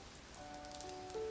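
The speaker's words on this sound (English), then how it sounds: "All we heard was the rain dropping onto microphones and onto the set" Rain patters onto microphones and a theatre set outdoors, a faint, dense crackle of drops with a few thin tonal lines over it, brief and continuous with no voices.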